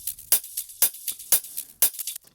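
A looping hi-hat pattern processed through effects including a limiter and dirt, with bright, filtered hits recurring about twice a second, smeared, with faint ticks between the main accents.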